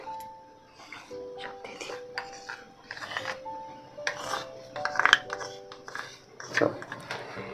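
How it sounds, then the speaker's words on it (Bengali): A spoon clinks and scrapes against a bowl as sweet curd (mishti doi) is beaten, in irregular soft strokes with occasional sharper taps, while someone talks over it. "এবার ভালো করে মিষ্টি দই ফাটিয়ে নেবো"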